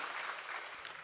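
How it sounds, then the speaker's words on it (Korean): Brief applause of welcome from a Korean church congregation at Sunday worship, a soft, steady patter of many hands, fairly distant and lasting about a second. "박수로 환영합니다."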